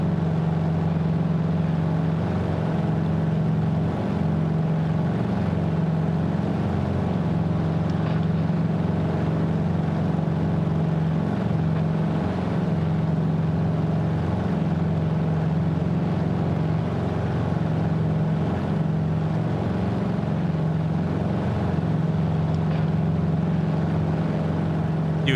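Steady propeller aircraft engine drone in flight in Microsoft Flight Simulator, heard in VR, a continuous loud low hum with a constant pitch and no breaks throughout.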